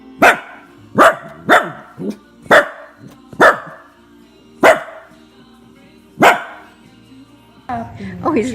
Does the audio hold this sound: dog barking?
yes